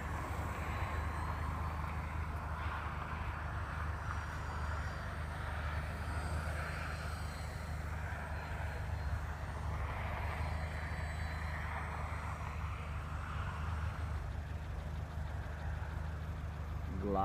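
An FMS Butterfly RC model airplane flies in calm weather, a steady low engine-like drone with faint wind noise holding evenly for the whole stretch.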